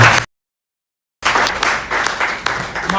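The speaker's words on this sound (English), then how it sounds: "Can we give them a round of applause?" After a brief gap of silence, an audience at a lecture bursts into clapping, individual claps distinct and uneven, moderately loud and close, without speech.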